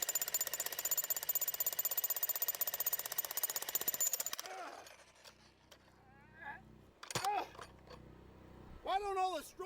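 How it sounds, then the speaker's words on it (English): A jackhammer hammers in a fast, loud, even burst of close impacts for about four seconds, then stops, and voices talk and react afterward. "Wonder how each one of these hits with the jackhammer compares to a gunshot."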